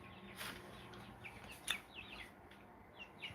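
Soft, distant clucks and short chirpy calls from chickens come in scattered bursts over a faint background hiss, with no talking.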